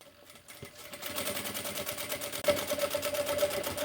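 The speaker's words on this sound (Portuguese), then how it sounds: "Agora eu vou passar uma costura aqui em volta pra prender, tá? O forro." Sewing machine stitching a lining to synthetic fabric around a cosmetic bag, starting softly and building into fast, even rattling stitches close by, with a faint whine toward the end.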